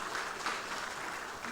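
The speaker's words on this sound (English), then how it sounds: "With a round of applause," Conference attendees at an international engineering, science and technology event applaud a professor's introduction, a brief, moderately faint and steady spread of clapping.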